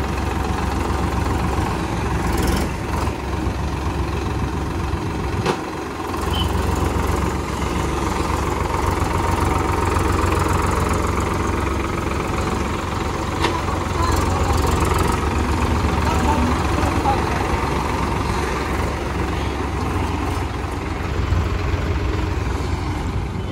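A Solis tractor engine idles steadily and loudly throughout, a constant low rumbling chug with no pauses.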